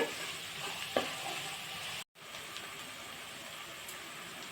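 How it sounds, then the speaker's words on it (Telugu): Turmeric and salt being stirred into sautéing onions and green chillies for lemon rice, with a soft, steady pan sizzle and faint scraping strokes, briefly interrupted by a short gap. "పసుపు, ఉప్పు వేసాం కదా, ఇంత బాగా కలిసేలాగా ఒకసారి అయితే కలుపుకుందామండి."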